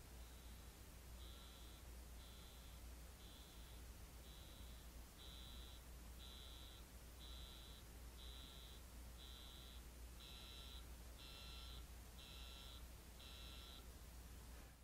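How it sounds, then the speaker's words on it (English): A steady series of high electronic beeps from a Plantronics-style SoundID 510 Bluetooth headset in find-me mode, about one every second, repeating evenly over a low background hiss and growing slightly stronger toward the end. "loud beeping sounds are about to emit from your headset."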